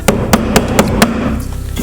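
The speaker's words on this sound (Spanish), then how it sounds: "Voy a utilizar este martillo de goma para así evitarme el tener que usar un mártir o un trozo de madera" A rubber mallet taps wooden canvas stretcher bars together in five sharp, evenly spaced knocks, loud and close, then stops, with no talk.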